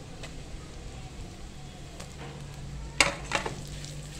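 Chopped green chilies tossed into a ginger, garlic and fresh coconut paste in a hot pan, a low steady sizzle with a couple of sharp stirring and utensil clinks near the end.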